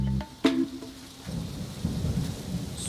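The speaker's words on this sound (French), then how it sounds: "Un orage! Pour une fois que j'ai quelques heures de congé, il faut que la pluie vienne tout gâcher." A thunderstorm, with a sharp crack of thunder early on and then a steady wash of rain that keeps falling and patters on a surface.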